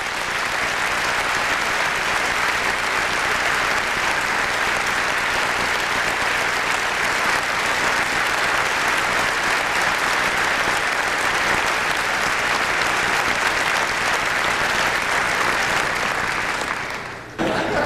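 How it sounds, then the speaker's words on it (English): Sustained applause from a large banquet audience at the 1997 NASCAR Winston Cup awards, steady and loud for about seventeen seconds before cutting off abruptly. "A nice round of applause,"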